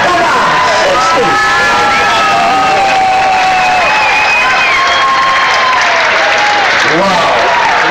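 Loud, dense applause and cheering from a crowd at an outdoor pierogi eating contest, continuous clapping mixed with shouts, whoops and children's voices and chatter throughout.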